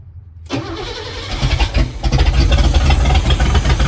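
An old car engine, its ignition busted out and turned with a screwdriver, cranks after a moment of quiet, catches and settles into a loud, rough idle that builds and stays steady, with no talking.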